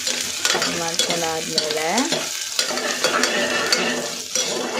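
Onions fry in a pan for mushroom biryani, giving a close, steady sizzle with stirring and scraping throughout. A voice speaks briefly over the frying.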